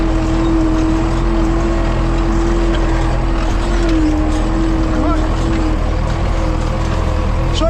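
An MTZ 82.1 tractor engine drones loud and close while pulling heavy harrows across a field, a steady, unbroken rumble with a faint wavering whine riding on top.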